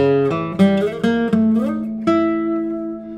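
Plucked acoustic guitar notes ring out in a short phrase, a few strums and single notes sustaining clearly with no voices.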